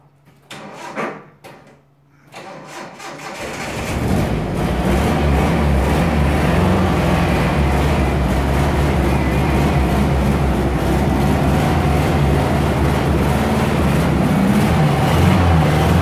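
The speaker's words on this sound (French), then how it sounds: "j'ai l'impression qu'il manque un cylindre, mais bon, les bougies doivent être cramées" A Datsun 720 pickup engine, missing a cylinder and on burnt-out spark plugs, catches after a few clicks and cranking sounds, then runs loud and steady with a rough, uneven drone close by.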